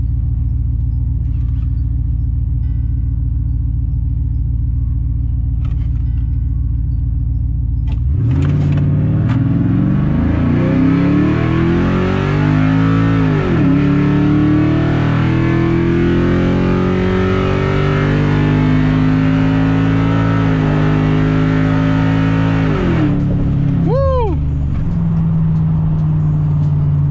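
A supercharged car in a drag race roars from a low idle rumble into hard acceleration, loud and close, its engine pitch climbing through several gear shifts before a final high rev and return to idle.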